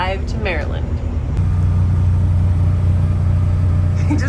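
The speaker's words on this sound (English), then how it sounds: "He just cranked up our generator, so we have AC." An RV generator cranked up at night to power the air conditioning, kicking in after a moment of talk and settling into a loud, steady, close droning hum with a low mechanical rumble.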